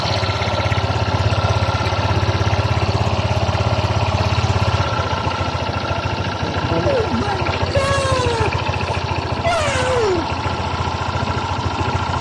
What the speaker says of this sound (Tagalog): at syempre paandar na natin ang kanyang motor para matry natin